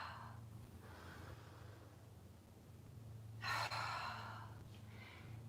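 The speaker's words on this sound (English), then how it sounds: "Really stretching up, letting go of everything on that exhale." Deep exhaling breaths during a standing stretching exercise, with one strong breath out about midway through and a few softer ones around it, close and quiet over a low steady background hum.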